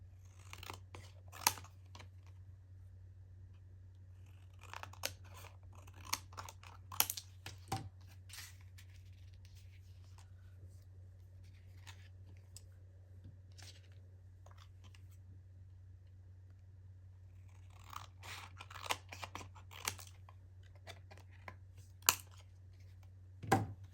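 Scissors cut a Dollar Tree craft item for a handmade pocket booklet, with scattered crisp snips and paper rustles in irregular clusters over a steady low hum, close and fairly quiet.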